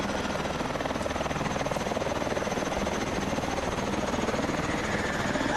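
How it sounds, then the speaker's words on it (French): Military helicopter in the Call of Duty: Advanced Warfare campaign, a steady droning rotor chop holding loud and close throughout, with no voices over it. "Va à l'hélico, Mitchell."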